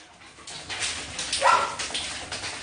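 A Samoyed-Malamute dog whimpers in short, high, whiny cries up close while having its fur brushed out, a few soft yips rising and falling over a quiet background.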